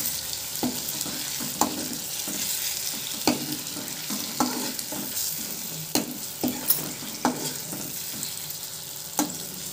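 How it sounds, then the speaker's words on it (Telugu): A ladle stirs egg masala curry in a hot pan, scraping and clacking in an irregular rhythm over a steady close sizzle, with no talking. "ఇప్పుడు గరిటెతో కలియబెట్టాలండి."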